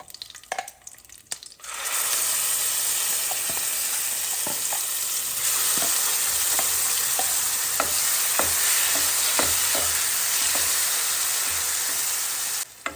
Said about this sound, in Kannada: ಈಗ ಇದು ರುಬ್ಬಿರೋ ಮಿಶ್ರಣವನ್ನು ಇದರಲ್ಲಿ ಕೂಡಿಸ್ಬಿಡೋಣ.